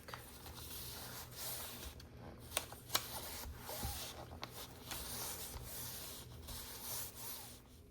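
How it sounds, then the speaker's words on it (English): Junk journal pages are pressed down into the curved spine of a handmade book, giving soft, close rubbing and scraping of paper with a few sharp taps and creaks. "push down just to get the pages seated"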